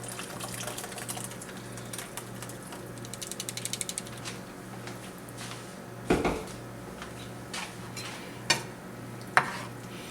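Beef and green sauce stirred in a pan, quiet scraping and clicking of the utensil against the pan with a few sharper knocks over a low steady hum.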